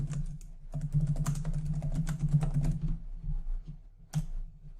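Keystrokes clatter on a computer keyboard while typing in a word processor, a quick irregular run of close, soft clicks with a brief pause near the end.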